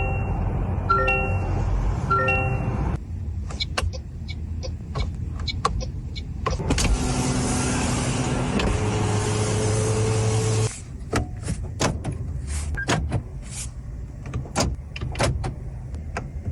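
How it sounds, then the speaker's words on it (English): The motorized trunk of a Toyota Prius Prime opens automatically with a steady electric motor whine, followed by close, sharp mechanical clicks and taps from the latch and lid. No talk. "Trunk opens automatically through the key or from the button on the back."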